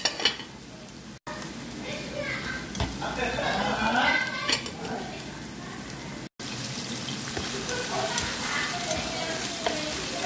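Onion and tomato fry in a pan with a steady close sizzle, broken by scraping and clinking of a utensil stirring against the pan.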